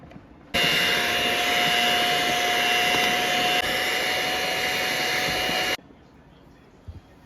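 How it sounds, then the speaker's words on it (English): An electric mixer whips heavy cream for a no-bake pineapple pie, a loud steady motor whine that starts abruptly, holds for about five seconds, then stops. "I'm getting ready to beat the whipped cream. The heavy cream, rather."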